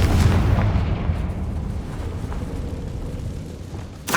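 Explosion from the Confringo spell in the Hogwarts Legacy video game, a heavy low boom at the start that decays into a rumbling tail, with a sharp crackle near the end.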